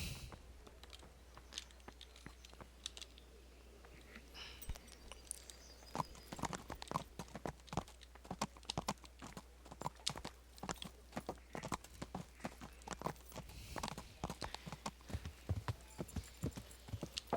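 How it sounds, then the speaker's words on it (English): Horse hooves clip-clop steadily in the medieval game Kingdom Come: Deliverance, a brisk, even rhythm of sharp close knocks running throughout with no voices over them. "Get on the horse and let's go."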